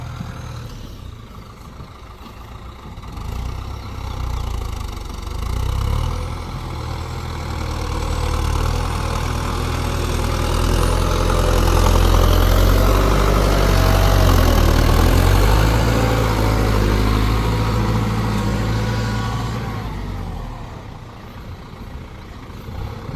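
A New Holland TD90 tractor's heavy diesel engine runs continuously nearby, a low rumbling chug that swells louder in the middle and eases off toward the end.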